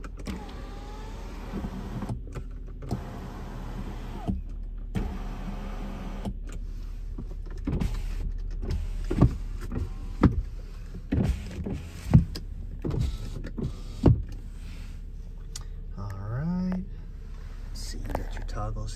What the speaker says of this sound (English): Go ahead and check your sunroof.